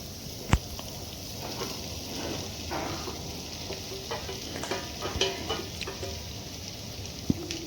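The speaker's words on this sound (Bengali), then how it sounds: "এবারে এই সয়া কিমাটাও মশলার সঙ্গে বেশ ভালোভাবে কষিয়ে নেব 4-5 মিনিট সময় ধরে।" Soy mince fries in oily spice masala, sizzling steadily while a spatula stirs it, with occasional sharp clinks of the utensil against the pan.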